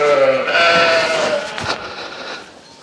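A large sheep bleats loudly and close by while being shorn with flexible-shaft shears, one drawn-out cry fading over a few seconds.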